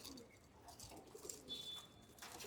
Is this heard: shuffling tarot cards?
no